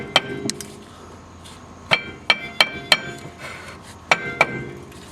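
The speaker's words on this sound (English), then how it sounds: "I had to take my old trusty sledgehammer and hit it right back here a couple times" An old sledgehammer strikes a seized rear brake rotor on a Hyundai, giving a series of sharp metallic clanks in uneven groups of two to four, ringing briefly over quiet shop background.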